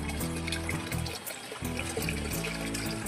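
Lime whitewash mixture is poured out, a continuous soft splashing trickle at close range, fairly quiet.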